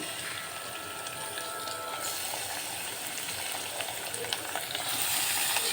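Chicken fries with browned onions in a pan, giving a continuous soft sizzle and crackle at moderate distance with no talking over it.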